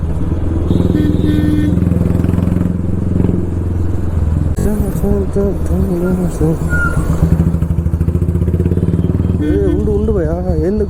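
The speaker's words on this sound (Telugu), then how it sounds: "బెంగళూరు అంటేనే ట్రాఫిక్ అంటేనే బెంగళూరు." Motorcycle engines thrum close by in heavy Bangalore road traffic, heard from a Classic 350 rider, with a steady pulsing idle and revs while someone talks over the noise.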